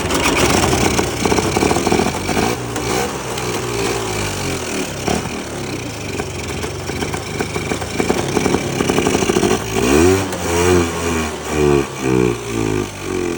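A Polaris Trail Boss 350 ATV, abandoned for 15 years and short on fuel, cranks and sputters loudly and close, then catches into rough revving with rising and falling pulses near the end.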